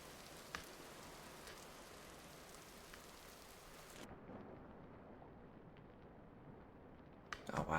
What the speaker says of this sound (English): the rain when you're underwater is kind of neat.